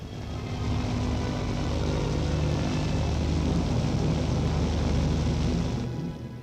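A Beagle 206 business aircraft from the 1960s gives a steady, loud engine drone that holds evenly for several seconds before easing off at the end.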